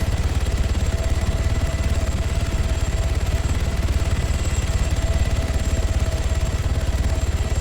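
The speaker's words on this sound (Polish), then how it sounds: "Ten heli jest prawie nad nami. Zagłusza." A helicopter drones steadily low overhead in the video game Arma 3, a loud continuous rotor chop with a faint whine, filling the scene without pause.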